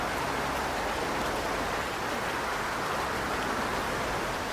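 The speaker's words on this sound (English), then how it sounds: "the rain on the roof, and the wind singing outside" Steady rain drums on a house roof in a broad, even hiss that holds at one level throughout, with no voices or other sounds breaking through.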